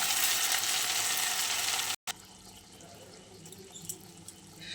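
Fried egg in a pan sizzles loudly and steadily as poppy seed paste goes in for an egg posto bhapa, then cuts out briefly and continues as a quieter, lower crackle with small pops.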